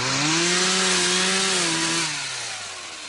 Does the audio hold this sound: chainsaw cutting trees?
yes